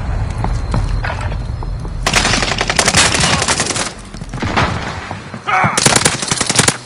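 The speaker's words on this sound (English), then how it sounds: "Heavy fire here!" Heavy gunfire erupts in a video game as loud, dense machine-gun bursts rattle in rapid succession, pausing briefly before another close, intense volley.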